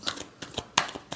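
Tarot cards being shuffled in quick bursts, about four crisp riffling snaps close by, with brief pauses between them.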